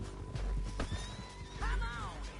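A horse in the Western video game Red Dead Redemption 2 gives a loud, close whinny, with a shorter neigh and hoof clops beforehand, set against a low background rumble.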